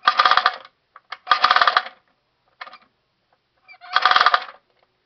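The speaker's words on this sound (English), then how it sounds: "Pull the trigger, it makes a sound." A vintage 1960s Johnny Tarheel Combat plastic toy repeating machine gun fires in harsh buzzing ratchet bursts, three long rattles and a few short clicks between them, close and loud with pauses and no talking.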